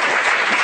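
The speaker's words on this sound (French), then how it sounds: "On les applaudit." Brief burst of audience applause in a hall after a talk, dense and steady clapping with no pause, lasting under a second.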